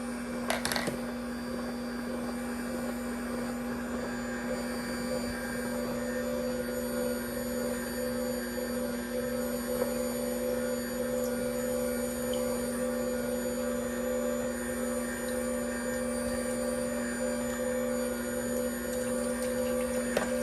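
Steady low mechanical hum of an AmzChef masticating juicer running at an even pitch, fairly quiet and constant throughout with no voices.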